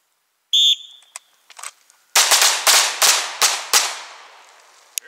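Shrill whistle, then a rapid string of loud, sharp pistol-range gunshots, three rounds fired on a shooting range qualification with echoing reports following each crack.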